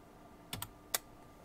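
Two quick key presses on a computer keyboard, Control then F11, used to exit a WinUAE Amiga emulation. A third click follows, all crisp, close, and isolated against a quiet background.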